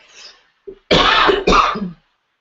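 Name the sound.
coughing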